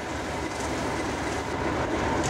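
A train runs along the Buxton line in the Peak District, a route still used by limestone freight from nearby quarries. A steady, close, rolling rumble with a clattering wheel texture continues throughout with no voices.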